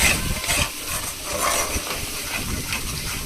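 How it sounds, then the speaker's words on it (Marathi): Coconut, garlic and ginger masala sautéing in a pan for a tandoori fish curry, a steady soft hiss and sizzle with faint scraping stirs, close and alone with no voices. "आता मसाला छान दाणेदार होईपर्यंत परतवून घेऊ आपण खोबरं लसूण आलं सगळे कच्च्या प्रमाणात येतो ते छान भाजलं जाईल"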